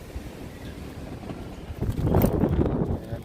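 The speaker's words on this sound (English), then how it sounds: "Windy, rainy." Wind buffets the microphone outdoors at an empty Coney Island on a rainy day, a rumbling roar that swells louder in the second half.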